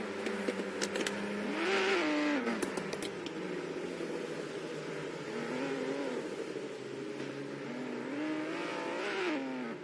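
Race car engines from a virtual racing game whine and rise through the gears, revving in repeated sweeps, loud and continuous with brief shifts between climbs.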